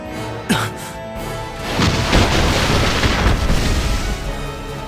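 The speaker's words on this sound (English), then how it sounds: "A bombardment from Styria." Bombardment explosions in the Final Fantasy War of Visions video game: a sharp boom, then a sustained rumbling barrage of blasts and crashes that runs on loudly and densely to the end.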